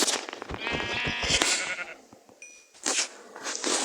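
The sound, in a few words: sheep bleating in a video game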